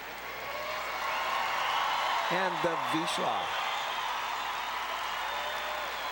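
Crowd applause for the sporting group lineup at the 2006 Westminster Kennel Club dog show in a large arena, steady clapping and murmuring throughout while an announcer talks over it.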